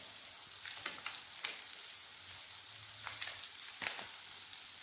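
Ground cumin and coriander fry in a pan, giving a soft, continuous sizzle with occasional crackling bursts and faint scraping, no talk.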